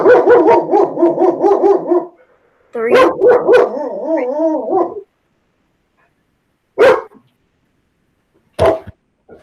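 A dog barks close by in rapid yelping runs, then lets out a couple of single sharp barks separated by silence.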